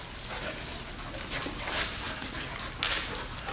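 Puppies at a dog daycare whimper and yip in short, high, whiny bursts, fairly close, with small panting sounds between cries.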